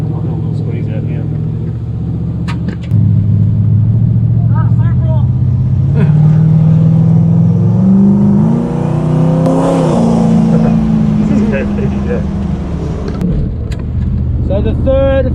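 A 900 hp Toyota Supra accelerates hard during a roll race, its engine a loud, continuous drone rising steadily in pitch over several seconds before easing off, with voices talking over it.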